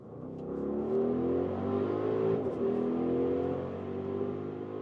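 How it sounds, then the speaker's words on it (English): A 2025 Audi RSQ8 Performance with sport exhaust accelerates hard, its engine rising in a strong, smooth harmonic roar, briefly easing mid-pull before climbing again, heard steadily from inside the car without talk. "Also listen to that sound, that sport exhaust is giving us a good vibe."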